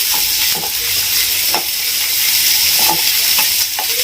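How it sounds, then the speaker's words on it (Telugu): Chopped onions fry in hot oil in a pan with a steady, bright sizzle. A few scraping stirs of a spatula break through, loud and close, with no voices. "ఎర్రగడ్డలు వేస్తున్నాను, కట్ చేసి ఉంచుకున్నాను కదండి. అది కొద్దిగా వేగాలండి."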